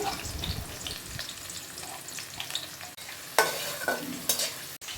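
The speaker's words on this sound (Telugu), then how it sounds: "ఒక కడాయి తీసుకొని అందులో ఆయిల్, ఆవాలు, ఉద్దులు, తర్వాత కట్ చేసి పెట్టుకున్న ఎర్రగడ్డలు వేసి బాగా వేపుకోవాలి." Onions, mustard seeds and urad dal fry in hot oil in a kadai for a country chicken curry, a steady close sizzle broken by scraping stirs and a few louder spatters.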